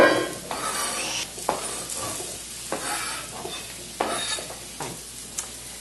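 Onions sizzle steadily in a frying pan while a utensil stirs and scrapes them, with a few clearer scrapes and knocks against the pan. The frying stays close and even under the stirring, and no one speaks.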